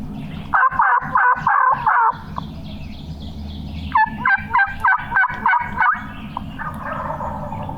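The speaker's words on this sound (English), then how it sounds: "sounds like the gobblers have dropped off the back of the ridge" Wild turkeys gobble repeatedly in two bursts of rapid, rattling calls, fairly close and loud, with a low rumble of background noise between them.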